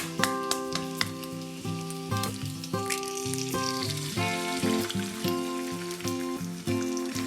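Egg frying on slices of pancetta in a pan, a soft sizzle and light crackle running beneath a prominent melodic music track that plays throughout.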